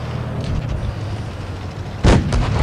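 An M46 Patton tank cannon fires once in World of Tanks Blitz, a loud booming blast near the end cutting through a steady rumbling engine drone.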